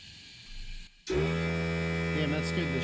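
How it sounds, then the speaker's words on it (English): A small pancake air compressor kicks on abruptly after a brief quiet dip, its motor settling straight into a loud, steady, close droning hum that runs to the end. "That small pancake compressor is gonna make it really hard to see where it's leaking, because it's gonna turn on right when I need to listen."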